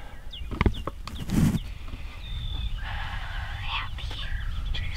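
Wild turkeys calling from a foggy field on a ridge during a Wisconsin spring hunt, heard as faint, fairly distant gobbles and yelps amid rustling and a few close knocks. Soft whispering voices can be heard near the start.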